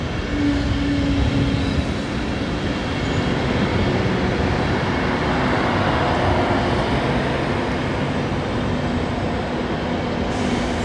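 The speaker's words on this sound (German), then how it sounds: "Das ist nur ein IC, ja." An Intercity train rolls through Koblenz main station with a loud, steady rumble of wheels and carriages, close by and continuous, with no voices over it.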